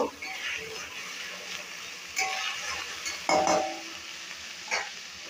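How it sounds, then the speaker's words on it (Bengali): A spoon stirring paneer and onions in a pan while cooking, with soft scraping strokes and a light sizzle underneath, a few sharper clinks of utensil against the pan. "একটু নাড়িয়ে নেব।"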